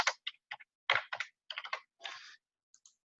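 Bursts of typing on a computer keyboard, clusters of quick key clicks separated by short pauses, close and clear with no talk.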